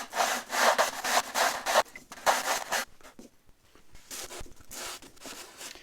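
Close, scratchy strokes of a sanding block along a wooden wing panel edge come in short bursts, pausing briefly, then resuming with a few more rubs.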